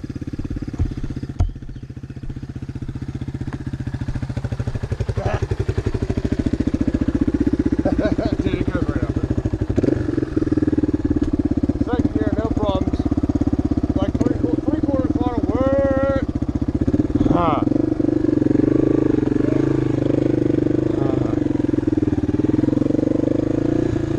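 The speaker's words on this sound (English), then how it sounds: "This bike will do this climb like it's nothing." A TTR-125 dirt bike engine drones steadily and loudly on a hill climb, holding a strong, even note with slight surges, while someone speaks briefly over it.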